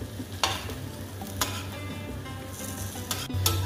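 Yam slices fry and sizzle on a hot tawa, with a steady crackle. A few sharp scrapes and clinks mark the slices being stirred and flipped over.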